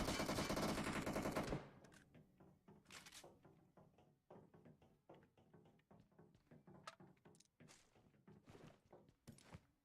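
PUBG Mobile shots ring out as a run of sharp, rapid cracks and thuds after a loud opening burst of noise, the bursts irregular and fairly close with quiet gaps between them.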